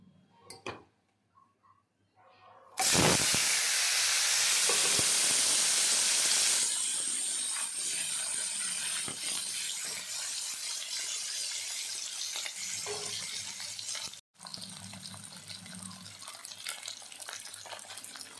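A loud burst of hissing sizzle erupts as turmeric-and-salt-coated catfish hits hot oil, then settles into a steady crackling fry that continues throughout.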